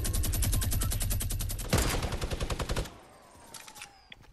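Rapid automatic gunfire in the Fortnite video game rattles in a dense, loud burst for nearly two seconds, followed by a second stretch of quicker, lighter shots, then a few faint distant pops as things quiet down.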